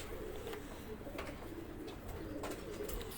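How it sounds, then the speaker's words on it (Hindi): Low, soft cooing of a pair of pigeons sits close by in a steady murmur for the whole stretch, with faint clicks and rustles now and then and no voices. "ये दोनों कबूतर देखिए"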